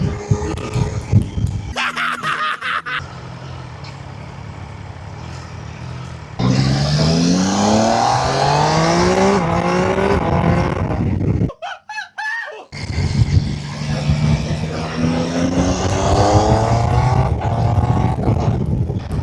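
A Triumph motorcycle engine revs, roaring and climbing in pitch, rising and falling through several throttle bursts, with a brief drop to near silence partway through.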